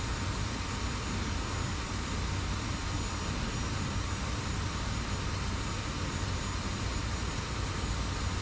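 An F-86 jet flying at high speed in a video game, with a steady, loud broadband roar of the engine and rushing air that holds constant throughout, with no voices.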